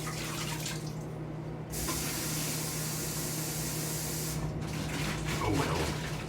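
Tap water runs steadily into a container being rinsed out, a continuous close splashing rush that thins briefly and then resumes, with no speech.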